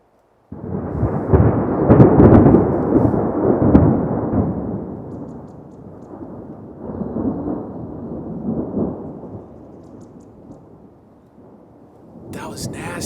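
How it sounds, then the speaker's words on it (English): Thunder rolling during a storm, a loud low rumble that swells early, fades, then rises again in a second softer wave before tapering off, with no one talking. "Let's see if we hear some thunder."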